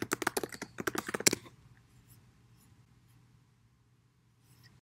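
Rapid, dense keyboard typing up close for about a second and a half, then near silence with a faint low hum and a final click.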